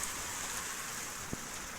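Soft, steady patter of light, unseasonal rain just starting on a surface, a faint continuous hiss with one small drip-like tap, no voices.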